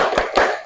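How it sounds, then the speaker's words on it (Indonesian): A class doing a tepuk huha clap, two sharp hand claps close together in quick succession, loud and near. "coba kita tepuk huha dulu satu kali"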